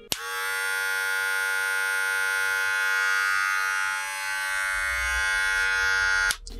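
A Wahl Super Taper cordless hair clipper switches on and runs with a steady, loud electric buzz for several seconds before cutting off abruptly, close up and alone.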